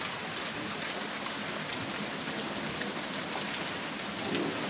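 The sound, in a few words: heavy hail storm falling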